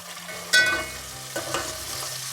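Onions and cumin seeds frying in moderately hot oil, a soft steady sizzle broken by two louder stirring bursts, close and without talk.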